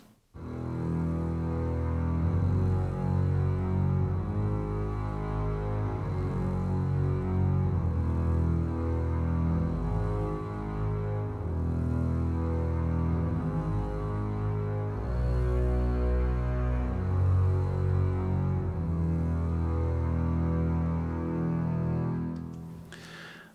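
Spitfire Appassionata double basses hold a sustained bass line doubled in two octaves, a deep continuous low drone with slow note changes running steadily for about twenty seconds, alone with no voices.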